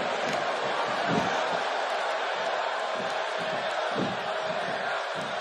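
An arena crowd in the WWE 2K18 wrestling game roars and cheers steadily throughout, a dense, loud wash of voices with scattered whoops.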